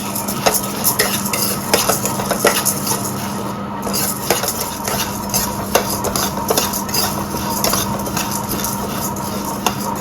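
Chana dal, urad dal and coriander seeds dry-roast in a pan, with steady close-up stirring and scraping of a metal spatula. A faint constant hum sits beneath the rustling clicks.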